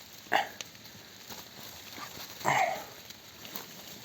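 Two short dog barks a couple of seconds apart, moderately close, over quiet outdoor background in a forest.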